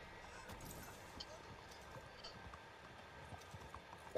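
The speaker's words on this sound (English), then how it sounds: "Ah! Horse." Horse hooves clip-clop in Red Dead Redemption 2, a steady, faint patter of hoofbeats beneath game ambience and players talking.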